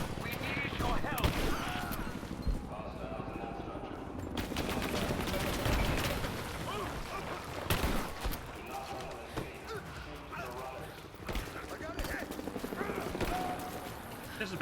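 Gunfire in the video game Rise of the Tomb Raider at the edge of a village, rapid bursts and scattered shots crackling loudly amid a chaotic battle with voices shouting throughout.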